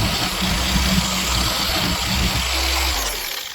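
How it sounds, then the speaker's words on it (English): Sanding a Pearl brass free floater drum shell with 220-grit abrasive, a continuous dense rasping hiss over a low motor-like hum, steady and close for a few seconds before easing off slightly at the end, with no talk. "Gonna sand it with some 220."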